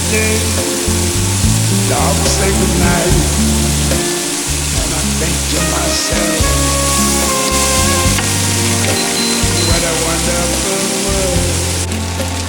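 Cut pieces of idiyappam sizzling loudly in a hot pan as they are tossed and mixed for a Chinese-style dish, with a steady hiss and stirring scrapes throughout.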